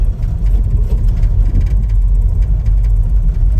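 Car engine fitted with an Edelbrock carburetor running after an idle mixture adjustment, a loud, close, steady low rumble with a slightly uneven pulse, no voices.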